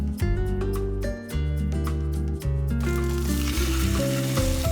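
Mackerel grills in Busan with a hissing sizzle beneath loud tonal music. The crackle grows more prominent toward the end.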